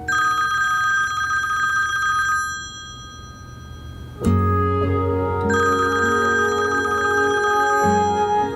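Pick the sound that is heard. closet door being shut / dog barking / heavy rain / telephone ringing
telephone ringing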